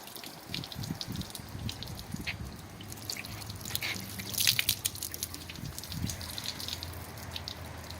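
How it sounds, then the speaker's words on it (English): Water splashes and runs off the freshly waxed black paint of a car during a water test. The flow is a steady, faint wash with occasional louder gushes and drips, and no one speaks. "Look at how fast that water sheets off."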